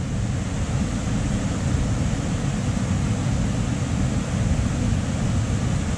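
The waterfall at Międzygórze roars in a steady, loud, dense rush of falling water, close by and unbroken, with no voices.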